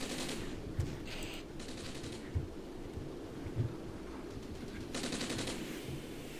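Distant gunfire and rumbling battle noise from a Cold War tactical wargame, with a few isolated low thumps and bursts of crackling fire over a steady background din, fairly faint throughout.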